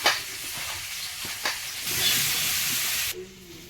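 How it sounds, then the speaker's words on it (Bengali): Fish sizzles while frying in a kadai on a gas stove, a steady close hiss that swells midway, with a few clinks and stirring scrapes, then cuts down sharply near the end. "এদিকে গ্যাসে মাছ ভাজা হতে থাকে"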